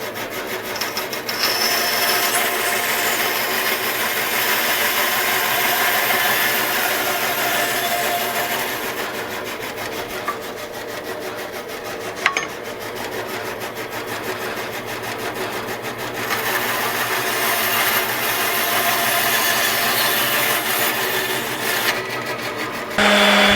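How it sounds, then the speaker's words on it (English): A bandsaw cuts steadily through a wooden axe handle, giving a continuous raspy whine with a brief break midway before the cutting resumes. "Now I'm going to go take it to my bandsaw and trim it."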